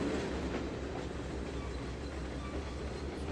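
A long train rumbles steadily along the track in the video game Trainz 2022, with a continuous mid-level roll and faint wheel clatter and no gaps.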